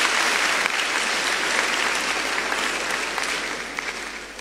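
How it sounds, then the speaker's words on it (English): Audience applause at a national education address in Ghana, a sustained, even wash of many hands clapping throughout, loud and close, with no one speaking. "Let's give another round of applause"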